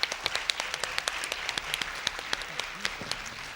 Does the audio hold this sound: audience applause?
yes